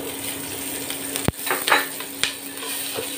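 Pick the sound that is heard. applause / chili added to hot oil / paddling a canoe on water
chili added to hot oil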